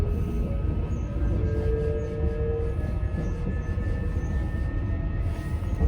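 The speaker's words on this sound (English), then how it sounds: "we're finally now on the 14:55 Northern service to take us to Kidsgrove" Steady rumble and rattle of a Northern rail passenger train in motion, heard from on board the 14:55 service to Kidsgrove, with constant low-frequency drive and track noise and a faint squeal, no talking.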